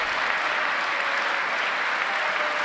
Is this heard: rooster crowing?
no